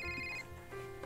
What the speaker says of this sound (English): Startled by the sudden sound of a phone ringing